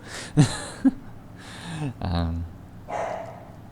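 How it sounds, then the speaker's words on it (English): A dog barks a few times in short, separate bursts nearby, with a person talking in between. "I bet you can hear him barking really well"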